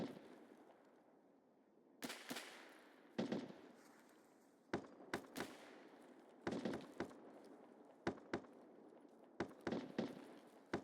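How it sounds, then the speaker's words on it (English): Distant gunfire from a BRT position in Escape from Tarkov's Woods area, irregular sharp cracks in short clusters of one to three shots spread across a quiet, hissy outdoor ambience. "we could be listening to like the BRT over there firing"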